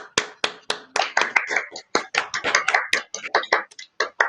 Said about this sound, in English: I have the good mic on tonight, so it's picking up all the claps